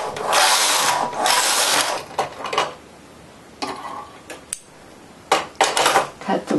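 A knitting machine knitting rows of waste yarn, its carriage sliding across in loud rasping sweeps, the first long and the later ones shorter and separated by quiet pauses and light clicks.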